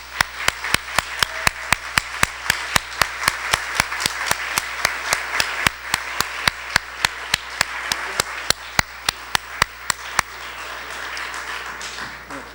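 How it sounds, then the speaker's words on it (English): Applause at a city council candidates forum comes as sharp, evenly spaced claps close to the microphone over a softer background of many hands. The clapping keeps a regular rhythm, then thins out and stops near the end. "I'd like to end it the way we began by giving all of these candidates a big round of applause"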